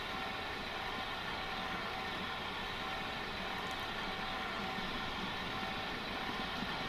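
A train runs steadily in the Transport Fever 2 video game, a constant, moderately quiet mechanical rumble and whir holding level throughout with no talk.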